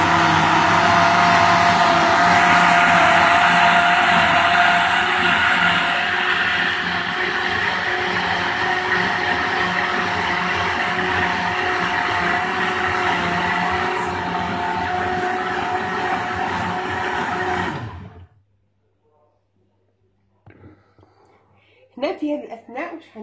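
A food processor whirring loudly as sugar is mixed in, a dense continuous grinding motor sound that runs steadily for about eighteen seconds before cutting off, followed by quiet and a few soft handling noises.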